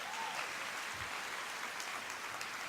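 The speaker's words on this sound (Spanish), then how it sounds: "Denle un aplauso fuerte a Jesús." A church congregation claps, with dense, fairly faint applause running steadily throughout and no voices over it.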